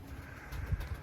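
Pigeons in a loft of Iraqi breeds kept in Germany, giving low, soft cooing that murmurs continuously through the short stretch with a louder swell near the end.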